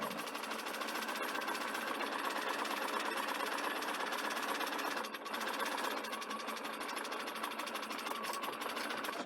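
A sewing machine runs steadily, stitching a front placket band, with a brief pause about halfway before the continuous whirring motor and needle rhythm resume, close and alone with no talking.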